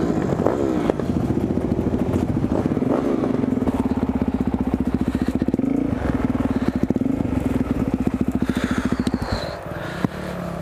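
Enduro motorcycles riding through woods, a close engine droning steadily with revving surges and rapid ticking pulses, with clattering and thumps from the rough ground throughout.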